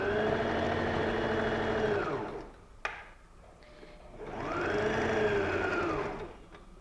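A sewing machine runs in two long bursts of steady, close whirring as it stitches a fabric ruffle along the side of a handbag, with a short pause and a small click between the bursts.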